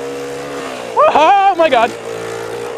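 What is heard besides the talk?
vehicle wheel spinning, losing traction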